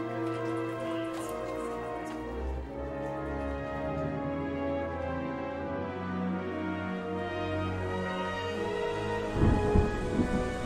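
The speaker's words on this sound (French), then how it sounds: "Il pleut toujours des cordes, c'est de pire en pire." Heavy rain pours steadily during a night storm, with low rolling thunder rumbling underneath. A dense, continuous wash of sound builds to a louder burst near the end.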